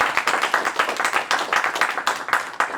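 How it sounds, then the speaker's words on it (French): A small audience at a talk on cities and nature applauds, individual claps clearly distinct in a quick, uneven rhythm, close and moderately loud. "On l'applaudit pour ça."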